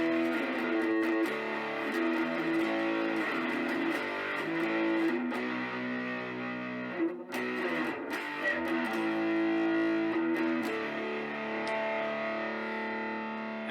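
A Gretsch Streamliner G2655 electric guitar with distortion plays sustained chords and riffs, loud and saturated, with a short pause partway through before continuing.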